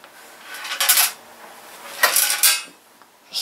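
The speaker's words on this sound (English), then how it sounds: "screw rattling around in there" A loose screw rattles inside an old fluorescent light fitting as it is tipped, giving short bright metallic clattering bursts, three main ones with quieter scraping between, close and fairly loud.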